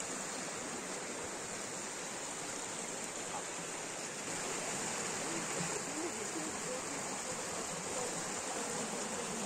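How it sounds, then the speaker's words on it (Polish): A stream in the Black Forest near the Geroldsau waterfall rushes steadily, a dense broadband hiss of flowing water at constant loudness throughout, with nothing else standing out. "Strumyk."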